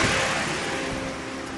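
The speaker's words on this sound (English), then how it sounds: "The fans are constantly running." Radiator cooling fans run steadily on a 2011 Chevrolet Malibu LT four-cylinder with a faulty coolant temperature sensor, a constant broadband whoosh with a faint hum that eases slightly over the span.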